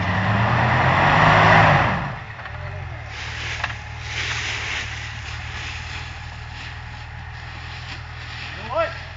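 A Jeep Wrangler engine grinds and revs in low gear while crawling off-road, loudest at the start and then settling into a steady rumble, with people talking and shouting over it.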